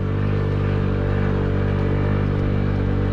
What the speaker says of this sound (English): This 49cc engine does just fine on hills, I have to say.